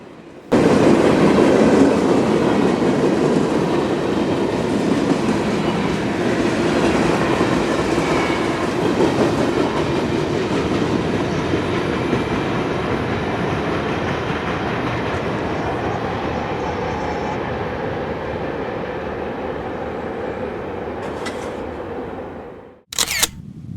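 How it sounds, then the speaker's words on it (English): Norfolk Southern freight train NS-12Z rolling eastbound over a road crossing, with an SD-60E locomotive dead in tow: a continuous loud rumble and clickety-clack of freight cars passing close by, fading at the end, followed by a sharp click. "NS-12Z rolls eastbound over Tanger Road with an SD-60E dead in tow."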